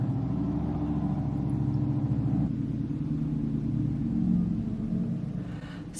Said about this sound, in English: that salt truck need a new muffler or something, because why is it making that much noise going down the street to dispense some salt?